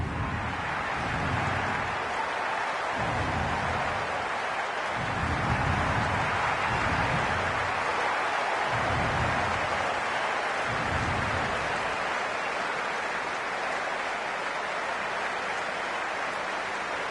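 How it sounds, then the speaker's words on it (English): Crowd noise in a T20 cricket video game, Kings XI Punjab against Chennai Super Kings, before the first ball: a steady, moderately loud roar of the stadium with rolling swells, heard alone. "The crowd are making a heck of a lot of noise even before the first ball's been bowled."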